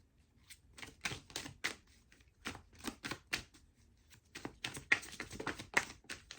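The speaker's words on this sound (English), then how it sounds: "let me shuffle the cards" Tarot cards are shuffled by hand in a series of quick, crisp riffling bursts and taps, close and fairly quiet, with short pauses between them and no voices.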